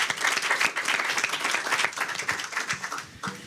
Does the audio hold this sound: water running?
no